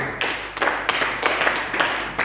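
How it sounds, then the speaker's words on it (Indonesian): A church congregation at an Easter Sunday service claps hands in a rhythmic pattern, with about four loud, evenly spaced bursts of clapping standing out over a steady bed of softer claps. "Kau berikan tepuk tangan untuk Tuhan."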